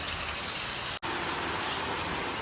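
Heavy monsoon rain pours down steadily nearby, a thick unbroken hiss of falling water cut by a split-second dropout before resuming at full strength.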